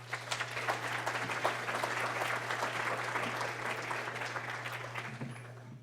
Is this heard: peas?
no